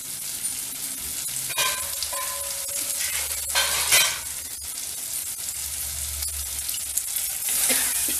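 Potatoes sizzling and bubbling in a pan after a splash of water, a steady close frying hiss with a few stirring scrapes, for an aloo gobi sabzi.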